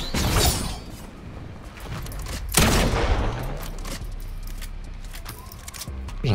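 Gunfire in the Fortnite game's Mega City during a solos match, a shooter on a roof: bursts of shots and a sharp crack amid game noise, with brief mechanical clatter between volleys.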